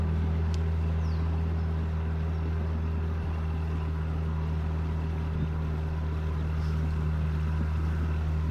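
A flat-bottomed motorboat engine drones steadily and low on shallow water throughout, a constant hum with no breaks and no voices.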